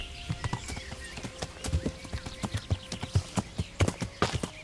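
Horse hooves in Kingdom Come Deliverance beat a steady walking or trotting rhythm of distinct, fairly close clops along a path, with no talk over them.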